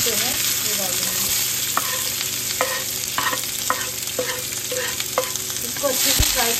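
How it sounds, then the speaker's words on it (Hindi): Chilli, bell peppers and onion frying in a pan for Thai egg fried rice, a loud steady sizzle broken by repeated sharp spatula scrapes and taps against the pan, close up with no talking. "अब मैं सबसे पहले जो है ना ये चिली डालूँगी और अपने बेल पेपर्स और अनियन जो है ये डालूँगी।"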